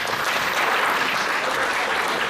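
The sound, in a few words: audience applauding kids at event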